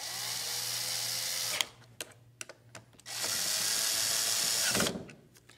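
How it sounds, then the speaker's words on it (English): A power driver tightens screws on a casement window sash, whirring in two long bursts with short clicks and handling noises between them, close up and alone. "And tighten the screws."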